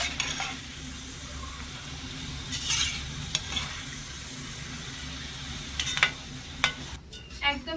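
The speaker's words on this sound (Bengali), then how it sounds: "এবারে প্রথমে নিকুতিগুলো ভেজে নেব" Nikuti sweets fry in hot white oil in a kadai, giving a steady low sizzle and bubbling with a few sharper crackles and spatters toward the end, close and moderately loud, with no voices.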